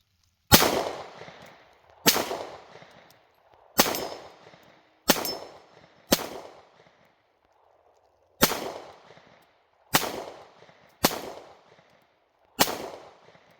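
Nine sharp, loud shots from a Springfield XD Mod 2 .45 caliber compact handgun ring out at an uneven pace on an outdoor range, each crack followed by a brief decaying echo, with a longer pause midway.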